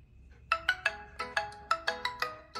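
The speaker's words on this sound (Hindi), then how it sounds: "ये कुछ इस टाइप की इसकी रिंगटोन है" A bright, melodic mobile phone ringtone plays a quick run of chiming notes with a bouncy, regular rhythm, clear and close.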